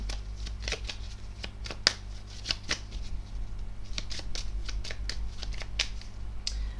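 Tarot cards being shuffled and drawn, with a rapid series of crisp riffling flicks and soft snaps close by, steady throughout against a faint low hum, with no talking.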